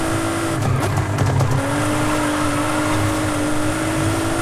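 A revving Nissan Fairlady 350Z drift car engine whines steadily while tires squeal and scrub across pavement, loud and close, with a brief sharper screech early on.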